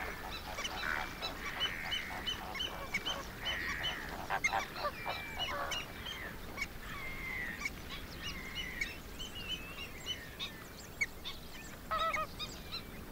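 Avocets and other shorebirds call repeatedly while feeding in the waters of a bay in the Namib, a busy chorus of honking, goose-like cries continuing throughout at moderate distance.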